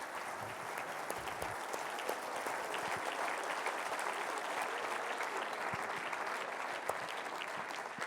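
Steady, dense applause from an audience at a stage hypnosis show, sustained evenly for the whole stretch with individual claps crackling through the wash.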